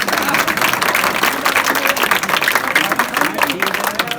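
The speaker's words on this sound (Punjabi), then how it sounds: "ਜਿਹੜੇ ਜਿਹੜੇ ਸਮਝ ਗਏ ਉਹ ਤਾੜੀ ਮਾਰ ਦੋ" A crowd claps at an outdoor village gathering held for a political speech, producing dense, continuous applause that stays loud and even for several seconds.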